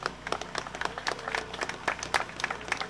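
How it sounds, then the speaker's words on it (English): A crowd at an HIV/AIDS charity ride event breaks into brisk, scattered clapping that stays fairly even throughout, moderately close. "Let's give them a round of applause."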